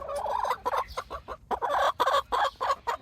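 Chickens clucking in a muddy chicken run, adult hens mixed with newly loosed chicks; a busy, close run of repeated clucks and squawks in bursts with short gaps, no talking.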